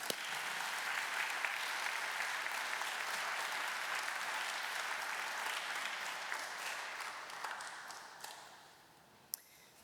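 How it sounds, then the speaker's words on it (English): Sustained applause from a large audience at a university commencement ceremony, dense and steady for most of the stretch before thinning out and fading near the end. "Please, let's give them a round of applause."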